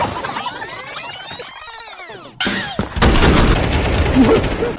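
Gunfire in Counter-Strike 2, with loud close bursts of rapid shots and echoing reports, an abrupt cut midway and then dense continuous firing.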